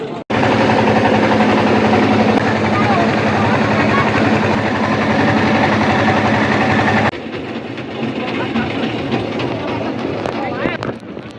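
A trawler boat engine drones loudly and steadily, then drops to a lower, rougher idle partway through, with faint voices underneath.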